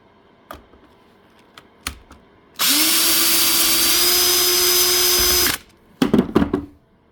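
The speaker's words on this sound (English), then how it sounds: "You can use any screwdriver, or I have this guy. I like using it, so I'm going to unscrew this stuff" A power screwdriver runs for about three seconds in one steady, loud whir while unscrewing screws from a 36V e-bike battery pack, framed by a few sharp clicks and taps before it and a short burst of rattling knocks afterward.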